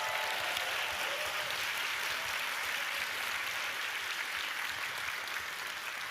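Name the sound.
audience applause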